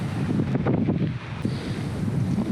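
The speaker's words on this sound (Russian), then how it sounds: "Очень ветер сильный." Strong wind beside a castle in Austria buffeting the microphone in a loud, low roar that gusts and rumbles throughout, with no voices.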